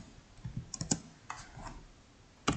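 Close computer keyboard typing of VBA code in bursts of quick, light key clicks with short pauses and a sharper keystroke near the end, alone and without speech.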